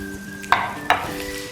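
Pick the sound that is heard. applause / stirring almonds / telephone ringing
stirring almonds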